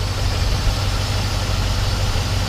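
A 1966 Ford F100 pickup with dual exhaust idles smoothly and quietly, a steady low engine rumble with an even, unbroken rhythm throughout, close by and with no voices.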